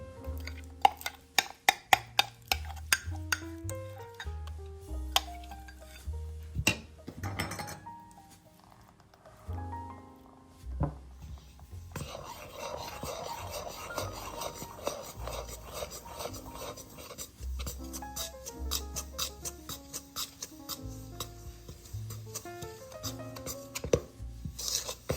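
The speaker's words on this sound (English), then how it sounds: "then we're going to stir in our chocolate mashed potato mixture" A spoon stirring a chocolate mashed potato mixture in a bowl makes repeated rasping, scraping strokes, uneven in rhythm and close up, that go on for the whole stretch.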